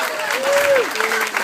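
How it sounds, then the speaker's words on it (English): Wedding guests clap during the groom and best men speeches, a warm patter of many hands in a room, with a thin whistle-like tone drifting through and voices faintly mixed in. "So, yeah, clap Anna."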